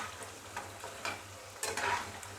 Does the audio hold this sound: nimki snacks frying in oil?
yes